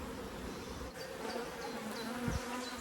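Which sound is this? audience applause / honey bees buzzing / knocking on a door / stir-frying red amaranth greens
honey bees buzzing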